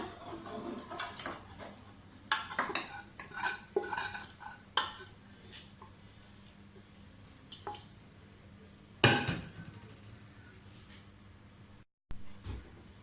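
Metal utensils scrape and clink against pots in a series of sharp, irregular knocks while cooked goat trotters are moved into another pot, with a quiet pause between bursts and no talking.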